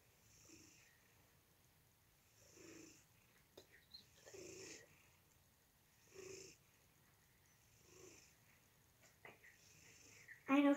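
A cat purrs loudly and close up in rhythmic bursts, roughly every two seconds, each breath giving a raspy, snore-like rumble, with a brief louder noise right at the end.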